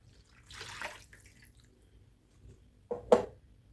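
Warm water poured into a bowl for a yeast dough starter for lenten poppy-seed crescent rolls, heard as two short splashing bursts, one soft and one louder near the end, with near silence between.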